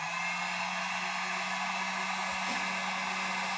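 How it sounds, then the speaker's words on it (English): Harbor Freight heat gun switched on its low setting as a load for a cheap LiFePO4 100Ah battery, giving a steady, even fan-and-air hiss with a low hum that runs unchanged throughout, close and alone. "for the load test, we're going to use everybody's favorite, the heat gun from Harbor Freight"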